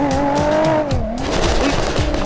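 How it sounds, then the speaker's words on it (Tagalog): A turbocharged Toyota Supra in a video game roars at speed, engine tone rising and falling through gear changes, with rapid crackling pops and tire noise, loud and close throughout. "Test drive na natin kung gaano kabilis, kung gaano kaganda itong Supra na to, itong turbo Supra na to."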